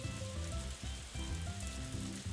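Steady rain falls in the farming game Story of Seasons: A Wonderful Life, a dense, continuous hiss and patter that stays loud and even throughout, with no voices.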